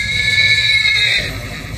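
A horse neighs loudly and close, a single long, quavering whinny lasting over a second with steady background rumble, no talk.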